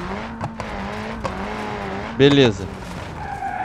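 A Mitsubishi Lancer's engine strains in third gear in the driving game BeamNG.Drive, holding a steady droning hum with a brief tire squeal midway, while someone talks over it.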